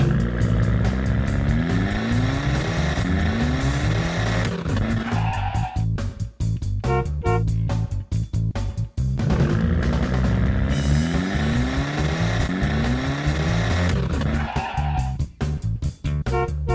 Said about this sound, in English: The car is ready to go.